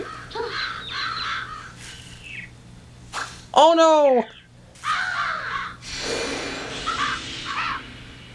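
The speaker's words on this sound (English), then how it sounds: "Evil crows!" Crows in the Billy Hatcher and the Giant Egg video game let out a loud burst of harsh cawing midway, set among other game sound effects, with someone talking around it.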